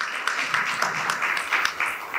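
Brief applause from a university audience, an uneven patter of clapping with a few sharper claps, fairly close and lasting only a couple of seconds.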